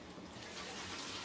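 Boiled rice vermicelli noodles being drained, with a faint, steady rush of water pouring out into a sink that lasts about a second, quiet and with no talking.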